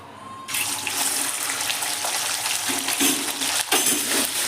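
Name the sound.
chicken frying in hot oil with salt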